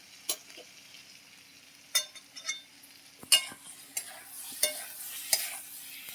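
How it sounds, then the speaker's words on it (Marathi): A cauliflower, green peas, potato and tomato curry being stirred in a pan after salt is added, with a quiet sizzle and a series of distinct scraping and tapping sounds of the spoon, close and fairly soft; no talking. "आता मिक्स करून घेऊया"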